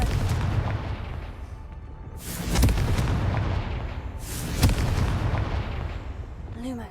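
Confringo blasting spell in the Hogwarts Legacy video game: two sharp, heavy booms go off a couple of seconds apart, each with a rumbling tail, over a low game soundtrack.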